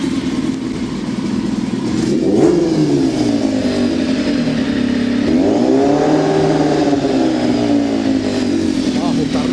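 The engine of a homemade kart cross revs up twice as the throttle is pressed, a loud nearby drone that swells and falls back to a rough idle between blips.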